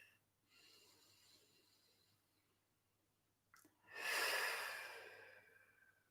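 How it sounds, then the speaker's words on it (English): Deep breaths during a morning meditation and yoga session: a soft nasal inhale early on, then a strong, breathy exhale blown out through the mouth that swells and slowly fades, close and alone with no talking. "take a few deep inhales through the nose, with exhales sighing or blowing the air out of the mouth"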